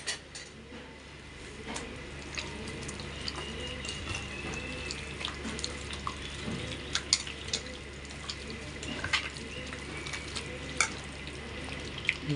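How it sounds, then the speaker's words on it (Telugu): Chicken biryani ingredients being mixed with oil and paste in a large vessel, with wet, squelching stirring sounds repeating in a loose rhythm, close by, alongside some light clinks and no speech. "ఇలా చక్కగా మిక్స్ చేసేసుకున్నాం."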